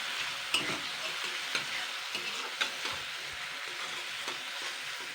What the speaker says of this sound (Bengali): এইগুলোকে আমি 2-3 মিনিট ভালো করে নাড়াচাড়া করে নেব